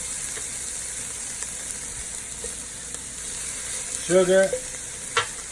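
Flour and tomato paste fry in a pot for an oxtail dish, giving a faint steady sizzle with a few light stirring knocks and a brief burst of speech partway through.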